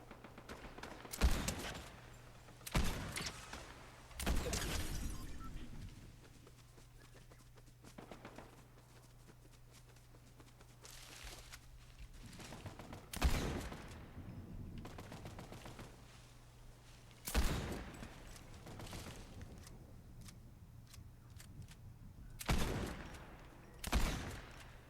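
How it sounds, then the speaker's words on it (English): Video game gunfire comes in separated bursts, roughly half a dozen loud volleys spaced across the clip, with a quieter hum and faint movement sounds between them. "There is shooting over there."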